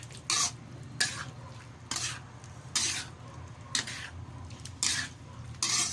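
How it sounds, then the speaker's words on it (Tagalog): Dissolved cornstarch is stirred into a simmering sauce of broccoli and pork, with repeated loud scraping strokes of a utensil in the pan over a soft bubbling sizzle. "Kukunin ko muna yung cornstarch na tinunaw. Nagtunaw ako ng cornstarch"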